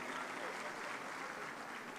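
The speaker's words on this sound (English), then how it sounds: "A round of applause for him." Audience applause at a political party manifesto launch rally, a dense, steady wash of many hands clapping that holds evenly for the whole stretch without a break.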